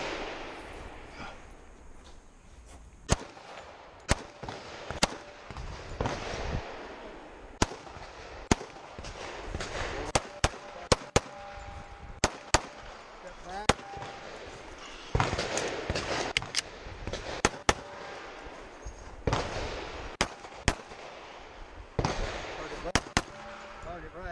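Sharp gunshots ring out one after another at irregular intervals during a 3-gun shooting match course, loud close cracks over outdoor background noise and faint voices.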